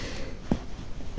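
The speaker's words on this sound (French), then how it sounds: "Désolée, je tousse beaucoup" A woman gives a brief muffled cough, followed a moment later by a sharper, louder cough at close range in a quiet room.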